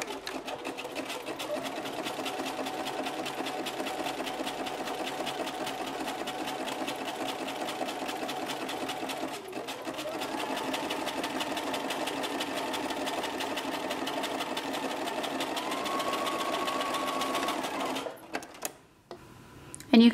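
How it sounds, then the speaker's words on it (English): A sewing machine runs a zigzag stitch over the raw hem edge of stretchy swim or dance fabric, worked from the wrong side. It gives a steady, fast mechanical whir for about eighteen seconds, then stops abruptly near the end. "Now if we switch to a zigzag stitch, I'm going to do it from the wrong side so I can be sure to cover the raw edge of that hemline."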